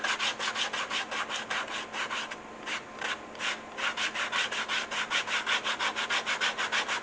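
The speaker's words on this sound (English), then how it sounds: "I can put a little saddle soap on it and burnish it a little bit" A hardened leather edge on a stitched cell phone holster is burnished with saddle soap: quick, steady back-and-forth rubbing strokes in a brisk, even rhythm, close and fairly loud throughout with no voices.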